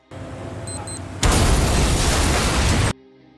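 An explosion goes off, opening with a few mechanical clicks, then a sudden loud, sustained blast roar that cuts off sharply into quiet.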